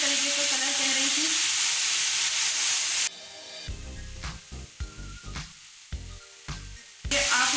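Chicken for homemade shawarma sizzles in a pan. A loud, steady hiss of frying fills the first few seconds, then thins into quieter crackles broken by scattered sharp spatters.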